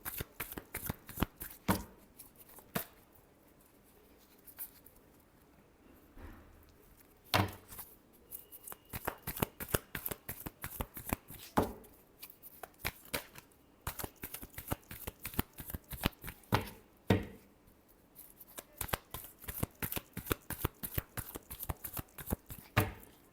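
A deck of tarot cards is shuffled by hand, giving sharp riffling clicks and slaps in irregular bursts, close and clear, with no talking.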